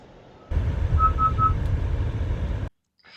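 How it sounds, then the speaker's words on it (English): A Honda City's collision warning alarm gives three quick high beeps in a row inside the moving car, over loud steady road and engine rumble that cuts off abruptly. "Notice that as I approach the scooter, the alarm is going off."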